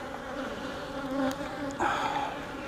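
Honey bees buzz steadily at a hive, a dense, close drone that briefly swells as individual bees pass near, with no voices.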